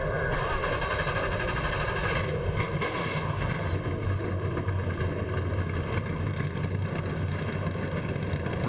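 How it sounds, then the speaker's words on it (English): Race engines of NASCAR Truck Series trucks at Homestead-Miami Speedway fire up together into a steady, loud, droning roar that continues without a break. "Brendan Gaughan happy to hear that engine firing up"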